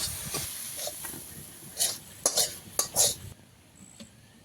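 Cooked palm-fruit filling being mixed in a pan, with close scraping strokes and several sharp clinks of a utensil against the metal, irregular and fairly loud, then fading to near quiet.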